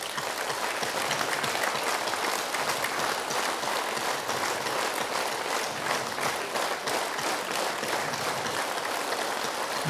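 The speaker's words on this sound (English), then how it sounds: "let us clap" A group clapping their hands together as an exercise to activate pressure points, a steady, dense and even patter of many claps lasting the whole stretch, close and fairly loud with no talk.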